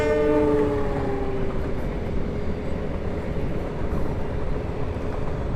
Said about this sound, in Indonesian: di depan sana ada kereta api lewat di sebelah kiri